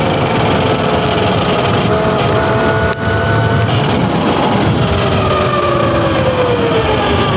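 Yozma IN 10 mini electric dirt bike riding downhill at around 40 mph: a loud, continuous rush of wind with a motor whine that rises and falls, steady throughout with no talking.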